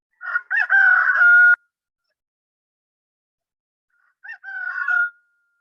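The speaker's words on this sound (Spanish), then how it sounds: "El gallo tiene sonido determinado, tiene notas musicales" A rooster crows twice, a loud close call followed by a shorter, fainter crow after a pause, with silence around them.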